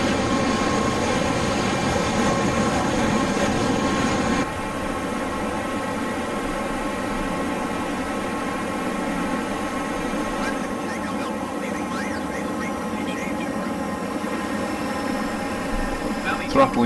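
Hawk T1 jet engine in a flight simulator game throttling back to a lower roar, with a steady hum and whine and a distinct drop in level early on, continuing alone.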